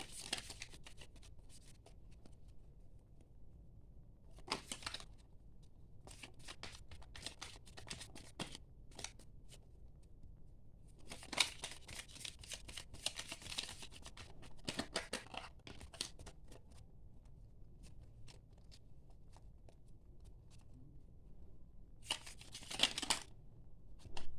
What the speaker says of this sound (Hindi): लेट मी शफल देम, ऐसे ही थोड़ी ना कोई भी कार्ड उठा ले जाएंगे